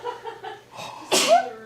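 A single sharp human sneeze, close and loud, following a few soft breathy vocal sounds.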